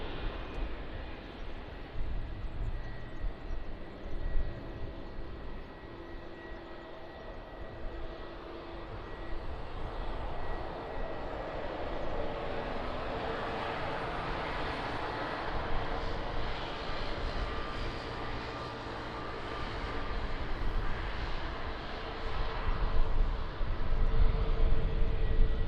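Plane engines at Lisbon Airport give a steady, broad roar that holds for the whole stretch and swells louder toward the end, with no voices over it.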